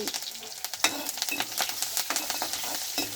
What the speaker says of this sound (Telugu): ఉల్లిపాయ ముక్కలు, పచ్చిమిర్చి ముక్కలు ఆయిల్లో వేసి ఒక కరివేపాకు రెబ్బ